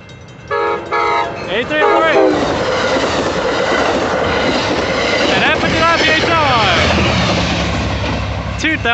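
Amtrak San Joaquins train 714, a southbound cab car 8303 and F59PHI locomotive 2013, passes close and loud with a blaring horn, rumbling engine, clattering wheels and squealing rails.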